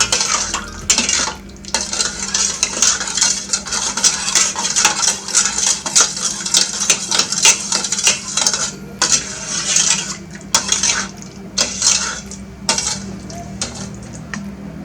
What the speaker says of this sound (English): I'm just going to stir this before I add the yeast.